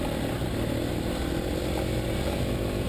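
A KTM 350 single-cylinder dirt bike engine revs in a forest, a steady, loud, buzzing drone held close for a few seconds with no talking.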